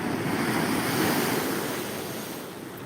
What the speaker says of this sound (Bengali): আজকে লাইফে কোনো কথাই হবে না শুধু ঢেউ আর ঢেউ হবে